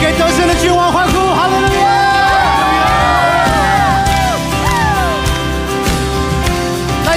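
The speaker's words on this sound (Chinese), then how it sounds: "给得胜的君王欢呼" A church congregation cheers for the victorious king during a worship song, with loud, continuous crowd cheering, whoops and shouts over sustained music throughout.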